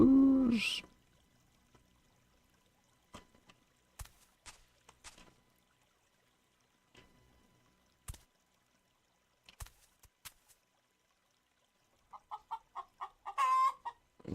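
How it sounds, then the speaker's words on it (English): Chicken in the game Minetest, scattered single clucks and clicks across mostly quiet stretches, ending in a quick run of louder clucking notes. "There's a chicken."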